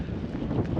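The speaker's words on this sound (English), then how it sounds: "It's a little bit windy, so you might be struggling to hear me" Wind blows across the open sandy expanse of Błędów Desert in Poland, a steady low buffeting roar against the microphone that holds at an even level throughout the short stretch with no talk.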